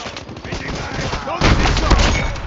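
Rapid bursts of automatic gunfire in a Call of Duty match, loud and close, growing heavier and denser partway through with a steady rattling rhythm.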